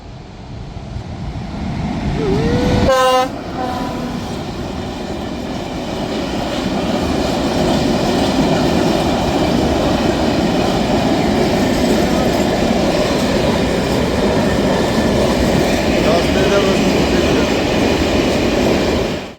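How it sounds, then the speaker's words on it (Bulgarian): A train rushes past close by with a loud, steady roar and rumble of wheels on rails, preceded by a brief horn-like tone early on. "Ето идва влака."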